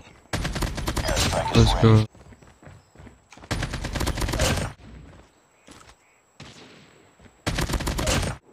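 AK47 gunfire in Call of Duty Mobile comes in three loud bursts of rapid automatic shots separated by short pauses with small clicks and footsteps. A brief spoken line overlaps the first burst.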